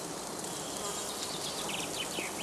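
Honeybees buzz in a dense, continuous hum at a heather skep apiary in woodland cover, many insects close by with no voices.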